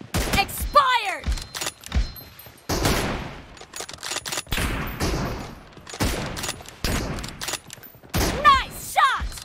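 Gunshots in a PUBG Mobile team deathmatch, sharp separate bursts and single reports spread across the stretch with gaps between them, mixed with in-game sounds and some voices.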